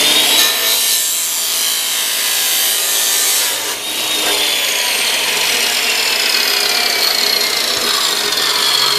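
A loud power saw cuts through a large plastic pipe for a rain barrel build, a continuous harsh high whine and rasp lasting several seconds with a brief dip midway, close and without talk.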